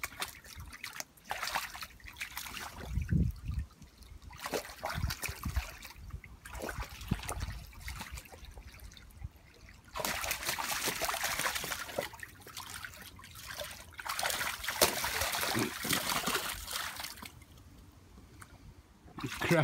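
A Malamute dog splashes and paddles in water in his new pool outdoors, making steady, near sloshing and trickling sounds with louder bursts of splashing and no talking.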